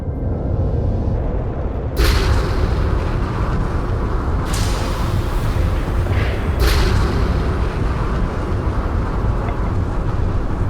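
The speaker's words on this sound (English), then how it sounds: "Retros firing. Orbit stabilized." Spaceship retro thrusters fire in Starfield, a continuous low roar with three sharp bursts of rushing blast layered over it, loud and sustained.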